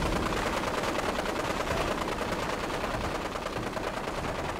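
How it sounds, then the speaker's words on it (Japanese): Dense gunfire in Fallout 4: a steady, unbroken rattle of automatic and overlapping shots from a large firefight, loud and continuous throughout with no pauses and no talking. "これ、撃ってるのか撃たれてるのか"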